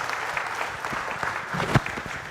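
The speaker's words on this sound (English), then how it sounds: "A good round of applause for these young startup team members" An audience at an innovation and entrepreneurship symposium in India gives a moderate, steady patter of applause for a group of young startup team members. The clapping is continuous and fairly close.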